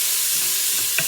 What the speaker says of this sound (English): Listen to that bacon sizzle.